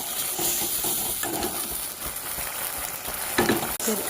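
Prawn masala sautéing in a pan, a loud continuous frying sizzle with stirring scrapes and a few sharper clatters near the end, with no talking.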